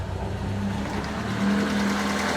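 A Lada Niva engine idling steadily after a choked start, giving a constant close mechanical drone with no talk.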